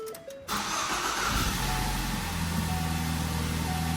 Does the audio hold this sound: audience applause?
no